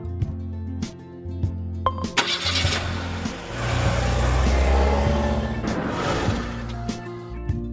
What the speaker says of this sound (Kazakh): Автокөлік.